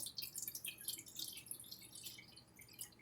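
Water runs from a tap into a container for sourdough bread dough, a steady faint splashing trickle with dripping, and no voices.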